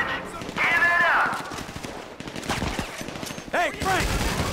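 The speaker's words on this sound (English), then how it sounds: "Something might stand up to gunfire." Bursts of gunfire from GTA 5 during a heist shootout, with rapid machine-gun volleys and single shots crackling over shouted voices.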